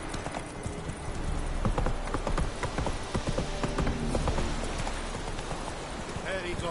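Roach the horse in The Witcher game, hooves clip-clopping in a steady quick rhythm that swells and slows toward a stop, close up, with a voice speaking over it.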